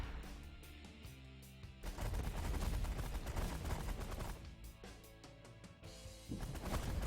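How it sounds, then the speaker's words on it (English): Rapid bursts of gunfire from bullets shooting at ships in The Last Federation video game, a dense crackling barrage running under loud background music throughout. "there's all these bullets shooting at me"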